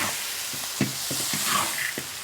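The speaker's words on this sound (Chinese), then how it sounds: "青红辣椒、洋葱，扣到里面炒" Shrimp, pig trotters, green and red chillies and onion sizzle loudly in a wok for a dry-pot dish, with a constant frying hiss broken by repeated clanks and scrapes of stirring.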